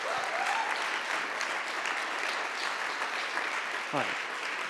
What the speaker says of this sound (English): So please, a big round of applause for Marcus Owens.